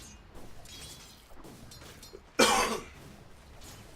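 One sharp cough bursts out close to the microphone partway through, loud against a quiet, faintly hissy background during a StarCraft-style esports match broadcast.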